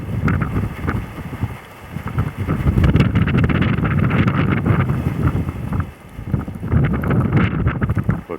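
Winter wind blows steadily around a wind turbine, a loud, continuous roaring rush with gusts that swell and briefly dip, no voices.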